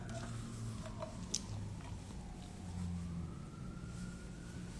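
Faint emergency vehicle sirens wail outside in the distance, a rising and falling tone over low background rumble, with a brief sharp click partway through.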